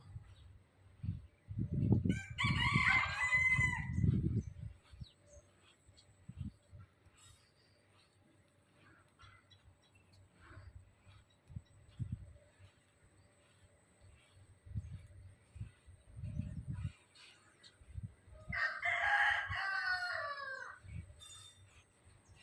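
Rooster crows and chicken clucks ring out in two loud bursts, separated by quieter stretches of low rumbling background noise.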